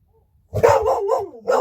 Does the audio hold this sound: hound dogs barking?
yes